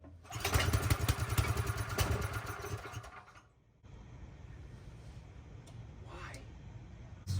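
A small generator with its choke on is being pull-started, a loud engine sputter running for a few seconds before cutting out, followed by a quieter rumble and faint handling noise.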